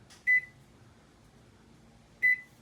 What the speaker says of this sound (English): Let's go ahead and put this microwave on for 1 minute